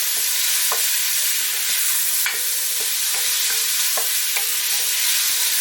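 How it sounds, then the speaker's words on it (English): Onions frying with bacon for coq au vin, a constant close sizzle broken by regular scrapes and clacks of stirring in the pan, with no voices. "And stir that in, keep it moving. Just get a turn on your onions."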